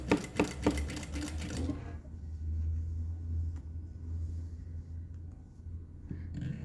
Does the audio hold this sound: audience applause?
no